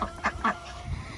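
Ducks and geese call on a farm in a few short honking bursts, moderately close, with a low rumble of background noise and no talk.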